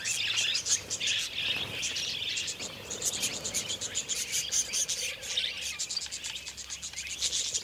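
Wild budgies (small parrots) chirp and twitter busily along an outback riverbank in Australia's central ranges, a dense chorus of rapid high calls over a faint insect buzz and low background rumble.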